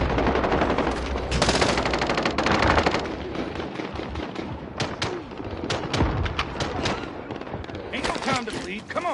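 Dense automatic gunfire and rapid bursts of shots in the Call of Duty Warzone video game, loud and nearly continuous, layered with explosions and voices talking over the chaos.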